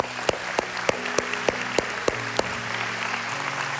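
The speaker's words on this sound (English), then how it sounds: "Can we give God a round of applause?" A church congregation applauds steadily in a large hall, a dense wash of clapping with a few sharper claps standing out at regular intervals, moderately loud and without talk.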